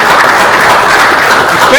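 Loud audience applause at a college scholarship seminar held at Morgan State, a dense steady wash of clapping filling the short stretch.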